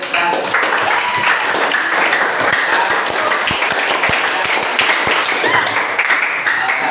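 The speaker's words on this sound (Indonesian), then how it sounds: "kasih aplaus juga temannya" Classroom applause for a fellow student, a steady burst of many hands clapping together for several seconds, fairly loud and close, with a few sharper individual claps standing out near the end and faint voices mixed underneath.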